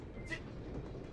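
A train rolls along in The Polar Express video game, a faint steady rumble of wheels and carriages with a brief hiss partway through.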